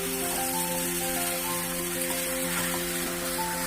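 Marinated meat chops fry in a hot pan, giving a steady, close, unbroken sizzle that holds at an even level throughout, with no voices.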